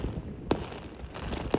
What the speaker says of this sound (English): Fireworks lit up the skies over San Francisco on July 4th